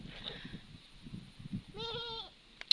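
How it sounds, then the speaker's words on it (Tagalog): A goat on a farm with chili and okra plants gives one clear nasal bleat partway through, fairly close, after a stretch of soft low murmuring, and a brief sharp click follows at the end. "Sumasagot yung kambing."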